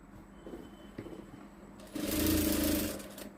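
A sewing machine stitches dots on the front of a blouse, with faint handling sounds at first, then a short steady motor whir rising and fading near the end, heard alone.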